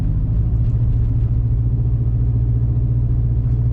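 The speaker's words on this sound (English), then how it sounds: "This truck sounds so freaking cool." A pickup truck's engine runs steadily while driving, a loud, close, low rumbling drone with a constant throb and no speech over it.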